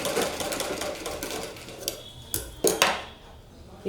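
Sewing machine stitching the front panel of a blouse, a steady close mechanical whir running throughout, broken near the end by a few sharp clacks and knocks as the fabric is handled.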